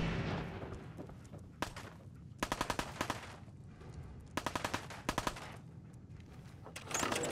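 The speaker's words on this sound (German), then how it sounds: "da wird schon geschossen" Rapid bursts of automatic gunfire crackle in Fallout 4, several sharp volleys spaced across the stretch with quieter gaps of ambient noise between them, fairly close and loud.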